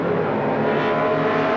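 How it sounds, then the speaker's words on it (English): A Chevy Monza and an AMC Hornet Pro Stock drag car race at the 1978 NHRA US Nationals with a loud, sustained engine roar. The roar holds steady and thick throughout the short stretch, with no voices. "The next pair in round number 2 racing in Pro Stock"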